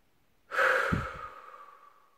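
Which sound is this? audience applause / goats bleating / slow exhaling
slow exhaling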